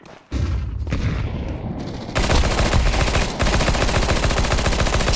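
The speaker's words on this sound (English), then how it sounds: "Deploying flashbang. Throwing flashbang. Grenade out." A flashbang grenade is thrown during an online team shooter match, bursting with sharp booms over dense, rapid gunfire that intensifies partway through and continues in loud, clattering volleys.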